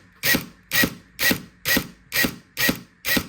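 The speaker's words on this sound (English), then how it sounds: "clicker, what they call the clicker system. So it has more of a real feel, trigger feel" Seven crisp mechanical clicks from the trigger clicker system of a Perun M14 airsoft fire-control unit, fired in steady semi-auto rhythm about twice a second, close and alone.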